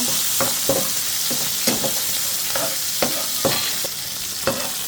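Green chilies and chopped onion frying in hot oil make a steady loud sizzle, with intermittent scrapes and knocks of a spatula stirring in the pan, and no voices.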